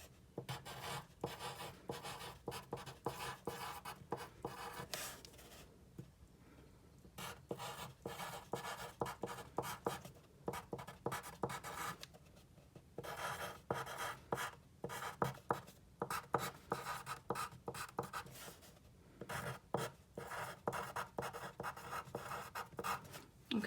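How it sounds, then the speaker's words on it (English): A pen scratches steadily across the paper of a journal page, writing by hand in continuous close strokes with brief pauses between words, no voice present. "So right here, I'm going to write it."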